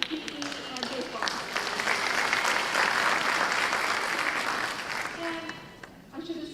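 A professional development day audience applauds award recipients, with a sustained wash of crowd clapping that swells and then fades, and a speaker's voice before and after it.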